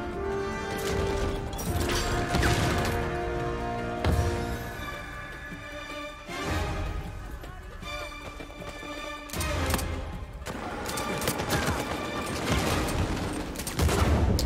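Heavy gunfire and repeated grenade blasts in the shooter game Uncharted 4, with dense bursts and loud crashing booms that rise and fall across the whole stretch and no voices over them.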